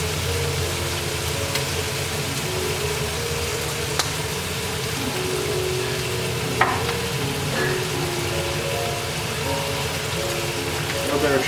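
Choy sum and pork belly sauté steadily in a hot pan just after soy sauce goes in, with a continuous crackling sizzle, occasional stirring clinks and light scraping, moderately close and with no voices.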